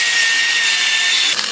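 A power tool grinds inside a worn pin hole on a backhoe, a loud, constant high-pitched whine close up with a slight wobble near the end and no talking.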